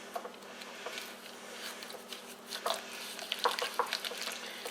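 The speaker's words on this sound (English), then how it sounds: "Now I'm going to get this all stirred up." Red velvet cream cheese brownie batter being stirred in a bowl, with soft, steady scraping and swishing strokes that are faint and close, with no talking.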